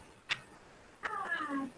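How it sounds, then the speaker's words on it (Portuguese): A cat meows at a door wanting to come in, a short faint call followed by a longer drawn-out meow, heard close in a quiet room. "uma gatinha querendo entrar"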